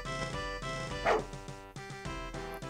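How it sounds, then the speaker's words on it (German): A small dog in an RPG Maker role-playing game gives a quick series of cute, yapping barks, close and clear, with a brief higher yelp partway through and short pauses between calls. "Das ist aber ein süßer Hund."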